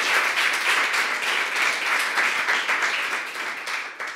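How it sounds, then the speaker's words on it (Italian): Warm welcoming applause from an audience greeting a group of students, steady and fairly loud clapping that rolls on for the whole stretch. "facciamo un applauso di benvenuto"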